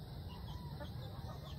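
Chickens cluck on a small farm, a soft, constant background of fowl sounds at low level with no talk.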